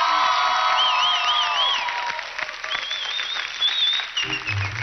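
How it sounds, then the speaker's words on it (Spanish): A studio audience at a Spanish-language television show applauds and cheers for a couple, a dense sustained crowd roar with whoops and whistles that fades slightly toward the end. "para ellos, un muy fuerte aplauso"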